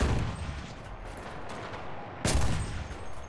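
Gunfire in the World War II shooter Enlisted: a steady rumble of distant shots, then a sharper, louder burst near the end, with no talk over it.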